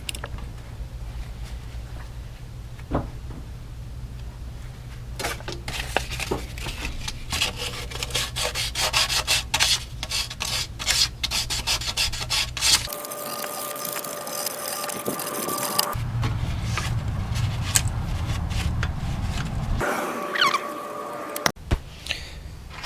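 Old gasket material is scraped and rubbed off a thermostat housing surface, giving repeated rasping, scratching strokes with short pauses and shifts in texture, close and fairly steady throughout.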